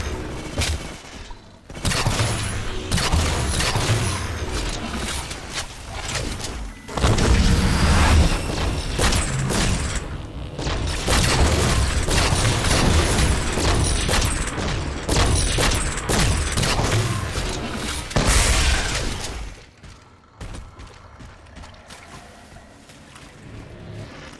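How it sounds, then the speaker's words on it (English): Light rifle fire in Halo 4 against crawlers: dense, loud bursts of shots layered over booms and whooshing combat noise, nearly continuous for most of the stretch before easing near the end. "So just shoot them all in the head with the light rifle."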